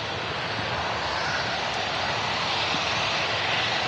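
Twin CF56 jet engines of an airliner roar steadily on a wet runway, a continuous broad rushing blast with spray hiss that stays loud and even throughout.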